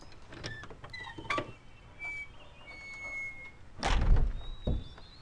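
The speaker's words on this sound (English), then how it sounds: "That door just crashed right into the rock there." A heavy door in the Riven puzzle game crashes into rock, a loud thudding impact with a rumbling tail toward the end, preceded by faint mechanical whirs and clicks.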